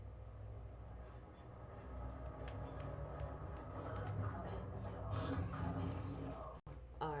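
A train in the video game Chulip rumbles steadily with clattering mechanical ticks and a rising hum. It continues for several seconds, then cuts off briefly near the end.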